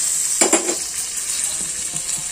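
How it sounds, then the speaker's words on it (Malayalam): Mustard seeds and fenugreek splutter in hot oil left over from frying fish, giving a loud, close sizzle with a burst of crackling pops near the start and scattered pops afterward, and no talking. "ബാലൻസ് എണ്ണയില്ലേ അതിനകത്തോട്ട് നമുക്ക് ഈ കടുകും ഉലുവയും കൂടെ ഇടാം അതൊന്ന് പൊട്ടട്ടെ"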